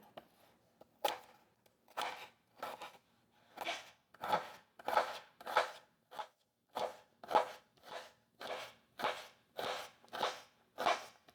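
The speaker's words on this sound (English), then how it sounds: "And then just chop that." A knife chops vegetables for an Israeli salad on a board, with about seventeen crisp, evenly spaced strokes in a steady rhythm, close and clear.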